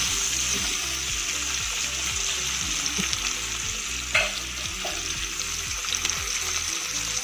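Cut potatoes and onions frying in a pan for soya chunk pulao, a loud continuous sizzle with regular rhythmic stirring scrapes and a low pulsing hum throughout.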